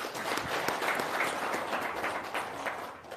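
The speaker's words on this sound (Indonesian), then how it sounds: "Tepuk tangan dulu dong." An audience claps at an Indonesian motivational testimonial talk, with a steady, moderately quiet patter of many hands sustained for a few seconds and easing slightly at the end.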